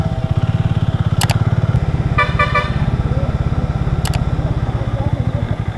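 A vehicle horn honks on a Konkan coastal road between Ratnagiri and Malvan. There are three short bursts, the middle one a quick series of toots, over a loud, steady engine drone.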